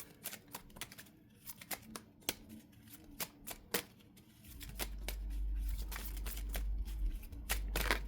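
Tarot cards are shuffled by hand nearby, giving quick papery riffles and soft slaps in uneven bursts, with a low rumble joining in the second half and no voice heard.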